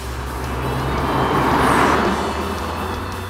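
A BMW M135i F20 drives along at steady speed, its engine a smooth continuous hum blended with road and tyre roar, swelling slightly in the middle and staying loud throughout without any talk.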